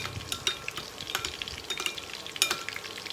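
Stirring rojak sauce, a peanut sambal, in a pot with a spoon, giving close, irregular scrapes and clinks over a thick, wet sloshing texture, with no talking.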